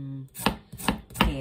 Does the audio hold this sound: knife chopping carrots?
yes